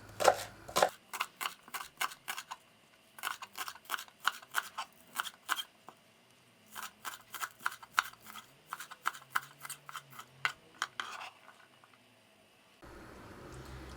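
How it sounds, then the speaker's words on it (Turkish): Rapid, close knife chopping of green onion stalks into small pieces on a board, in fast bursts with short pauses, ending in a low background rumble; no voices. "Şimdi de soğanlarımızın şu sap kısmını küçük olacak şekilde doğrayalım."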